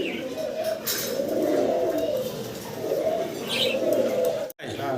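Pigeons offered as pairs for sale in Bangladesh coo in soft, repeated low murmuring phrases close by, with a few brief chirps and handling noises, and a voice heard faintly in the background.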